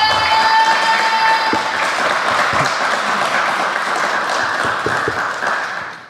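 Audience applause at a live podcast recording in Rennes, a dense wash of many hands clapping steadily for about six seconds before easing off at the end, with no talk over it.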